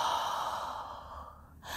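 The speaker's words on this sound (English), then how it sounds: "and breathing out" One slow, deep breath out, close to the microphone, a soft airy exhale that fades gradually before a small sound at the end.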